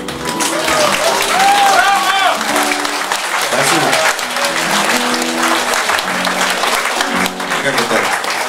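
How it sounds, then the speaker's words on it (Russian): Sustained audience applause fills a hall, dense and loud throughout with a few voices calling out over the clapping. "разрешите ваши аплодисменты считать соединогласными"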